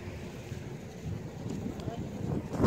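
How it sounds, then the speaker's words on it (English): Steady wind blows outdoors, close to the microphone, as a low, buffeting rush that holds at an even level throughout, with no other clear sounds. "It's so quiet out here except for the wind and the noise."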